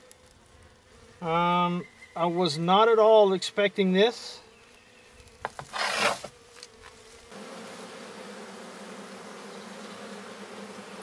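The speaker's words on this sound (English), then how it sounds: "I can hear the bees buzzing." A steady, low buzz of honeybees in an opened hive hums from the middle of the clip onward, preceded by a person speaking and a brief rustle.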